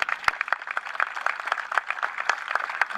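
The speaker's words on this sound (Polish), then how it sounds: "Jeszcze raz wielkie brawa!" Crowd clapping for award winners at a firefighters' beach volleyball championship ceremony, a dense run of many hands with sharp individual claps standing out, steady and fairly close throughout.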